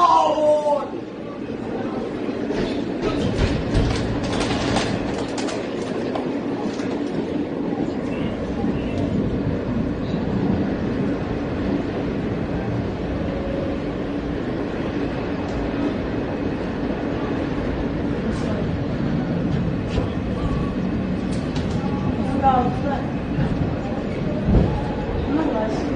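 Crowded New York City subway train running, a steady rumbling roar of rail noise with faint clatter throughout, people talking over it.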